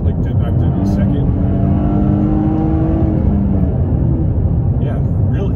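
Toyota GR Corolla engine with a manual gearbox, rising and falling revs as the gears are shifted, a steady loud rumble inside the cabin underneath someone talking.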